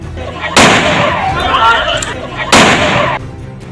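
Two loud, sharp gunshots about two seconds apart ring out in a village in Morena, Chambal, each followed by a long echoing rumble that lingers before cutting off.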